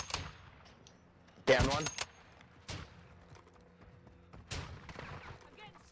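Gunfire in an online shooter match: several sharp shots and a loud burst near the middle, with scattered distant cracks around it, while players talk over the fighting.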